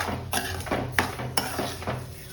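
Two large apples cooking with a cup of sugar into jam, stirred in a pan with a spoon: repeated scraping and clinking strokes against the metal at an uneven rhythm, with a faint sizzle between them.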